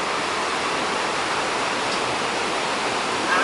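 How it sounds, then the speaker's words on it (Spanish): Constant rushing water roars evenly throughout, a dense hiss like a nearby waterfall beside a river in Orizaba, Veracruz, with no voices. "Ay, tenemos cascada también."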